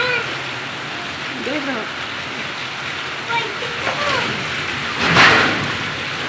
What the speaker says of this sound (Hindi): बहुत तेज की बारिश है।